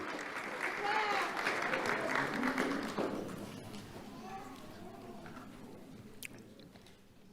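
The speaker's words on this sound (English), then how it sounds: "Let's have a round of applause for Xavier Stacy" Audience clapping at a youth awards ceremony for a middle school student, a fuller burst at first that thins out after a few seconds, with voices and murmuring mixed in.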